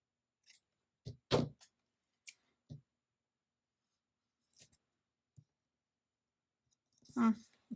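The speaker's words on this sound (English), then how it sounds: "Let's cut this one a little bit." Scissors cut a paper Happy Planner sticker in a quiet room: a handful of short, soft snips and clicks spaced irregularly, with long silences between them.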